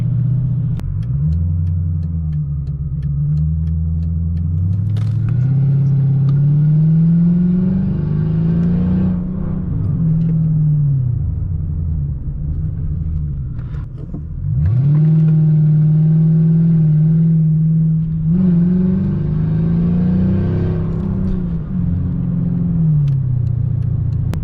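A Mercedes CL500 coupe's 5.0 V8 pulls hard through repeated rising surges, its deep engine note climbing, dropping at each shift and swelling again, heard from inside the car with no voices.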